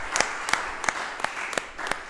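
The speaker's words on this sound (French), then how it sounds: "Applaus für den Herrn." Scattered handclaps in a church service, a handful of sharp claps spaced irregularly over a steady room murmur rather than a full ovation.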